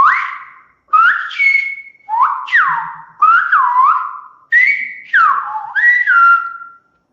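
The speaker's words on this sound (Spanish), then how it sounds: "Y ahora te silbo la frase que estábamos silbando." Whistled Silbo Gomero phrase from La Gomera, a run of about seven sharp, gliding whistled syllables rising and falling in pitch, loud and close with short gaps, no speech.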